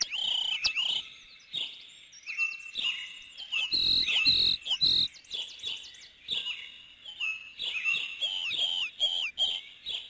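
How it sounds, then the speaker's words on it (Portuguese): Several birds chirp and trill in varied, overlapping calls, fairly close and steady throughout, with no talking. "Silêncio, pássaros."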